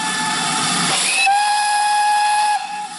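Steam locomotive 5199 sounds its whistle as it departs Llangollen for Carrog on a heritage railway, one long loud steady blast over the hiss of escaping steam.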